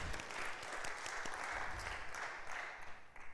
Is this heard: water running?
no